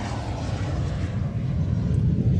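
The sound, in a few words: aircraft arriving at Royal International Air Tattoo airshow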